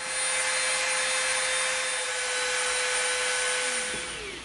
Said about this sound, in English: we are going to get our Dremel out and we are going to slightly round this edge over